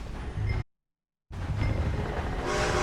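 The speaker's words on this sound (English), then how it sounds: "A train!" A steam train in the Red Dead Redemption 2 video game rumbles close and loud, a dense continuous mechanical roar broken by a short silent gap before resuming.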